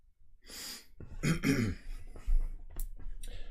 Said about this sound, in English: I've got a kind of annoying cough that's disrupting my speaking on the stream sometimes.